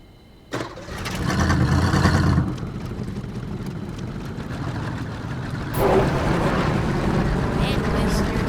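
A monster truck engine in the Trailmakers video game starts with a sudden roar, revs for a couple of seconds, settles into a steady idle, then swells again near the end.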